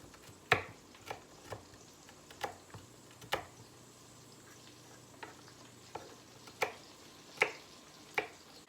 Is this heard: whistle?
no